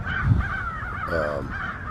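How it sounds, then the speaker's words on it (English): Crows cawing while mobbing a red-tailed hawk outdoors, several harsh caws overlapping in a steady series at moderate distance, fairly loud. "the crows once again had surrounded a red-tailed hawk"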